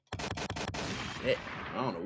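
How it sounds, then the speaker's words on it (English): Rapid burst of gunshots from a played-back recording, several sharp cracks in quick succession followed by a ringing tail, heard through playback at moderate level. "These sound them gunshots."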